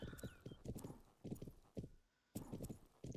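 Horse hooves clip-clop steadily in the video game Planet Horse, with clear, close bursts of hoofbeats in a walking rhythm, a short pause, then more steps and a faint whinny.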